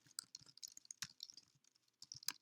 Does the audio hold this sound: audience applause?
no